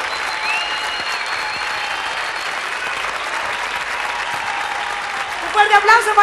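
An audience at an outdoor festival concert claps in a steady, sustained round of applause, fairly loud and continuous, with an announcer's voice over it near the end.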